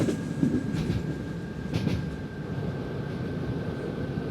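A train rumbles steadily in the Open BVE simulator game while slowing under its brakes on approach to a station, with a low continuous roll, faint rail clatter and a thin steady whine.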